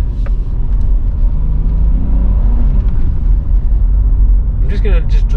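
A Nissan car fitted with a boost mod drives along, its engine giving a steady, loud low rumble throughout, with a brief brighter burst of noise near the end.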